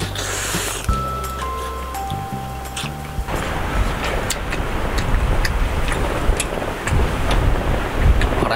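Strong gusting wind buffets a campsite, with broadband roaring surges rising and falling steadily after a brief tonal hum at the start, loud and close to the microphone, with no talk.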